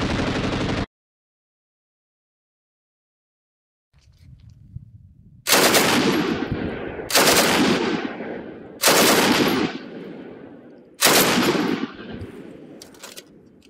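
Bren light machine gun firing in the World War II shooter Battlefield 5, loud bursts of automatic fire in four distinct volleys after a brief silence, each burst ringing out with a decaying tail.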